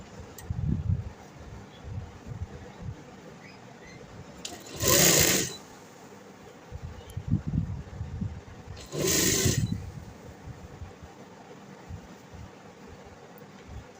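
A sewing machine stitching a sleeve onto a kameez runs in two short, loud bursts, with quiet fabric handling and rustling between them.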